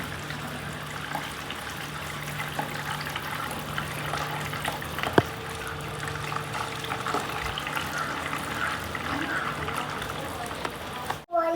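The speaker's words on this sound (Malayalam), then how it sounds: "ഇത് കച്ചറൊക്കെ വലിച്ചെടുക്കാൻ പറ്റും" A siphon tube draws water and dirt out of a betta fish aquarium, giving a steady, continuous gush and trickle of flowing water close by that ends with a brief knock.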